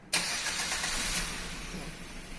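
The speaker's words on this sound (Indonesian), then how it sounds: "Kemudian engine atau mesin kita nyalakan." A Suzuki Ertiga engine fires up with a sharp crank, then settles into a steady mid-pitched idle that drops slightly in loudness toward the end, close and clear.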